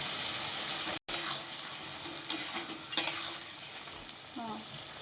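Ginger, garlic and dry chili paste with whole cumin hit hot oil and fry with a steady moderate sizzle, broken by a few sharp stir scrapes and spatters; a brief dropout near the start.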